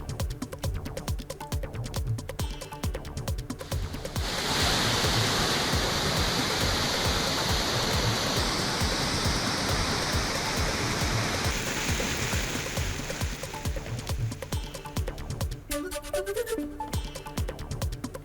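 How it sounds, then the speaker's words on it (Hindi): The Alaknanda river in spate at Rudraprayag, Uttarakhand, swollen by continuous rain, gives a steady, loud, broadband roar of rushing water that continues throughout with no voices. "उत्तराखंड के रुद्रप्रयाग में उफान के साथ बह रही अलकनंदा नदी।"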